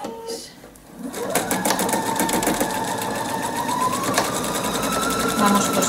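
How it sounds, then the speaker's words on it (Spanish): A sewing machine stitches quilt fabric pinned in place, its rapid mechanical chatter running continuously after a brief pause, close and loud with a rising whir. "Vamos cosiendo a pata."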